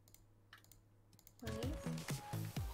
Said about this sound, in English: You hear my keyboard?